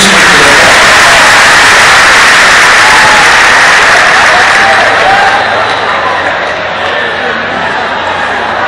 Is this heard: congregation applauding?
yes